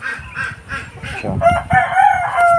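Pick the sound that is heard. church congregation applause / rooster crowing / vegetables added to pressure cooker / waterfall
rooster crowing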